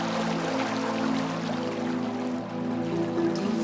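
Irrigation water from a farm canal in Chile runs steadily into a field, making a continuous, even rushing pour with no breaks, close and moderately loud, with no voices.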